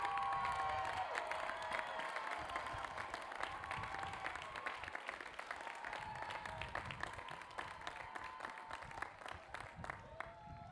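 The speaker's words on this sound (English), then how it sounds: "stand up and cheer." At a master's commencement ceremony, graduates from a college of design applaud and cheer. The sound is a faint, distant mix of clapping and whoops that gradually thins out.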